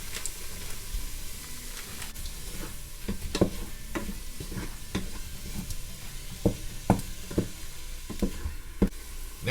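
Butter sizzles in a Ninja Foodi pot with a steady low hiss, punctuated by a string of sharp clicks and taps from the utensil against the pot, close and moderately loud.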